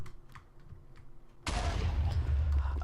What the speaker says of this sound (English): Okay, so this is the lava bomb.